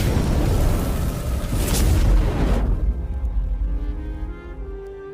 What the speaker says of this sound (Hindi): ऐसे ही चंद पलों में देखते देखते एक भयानक धमाका होता है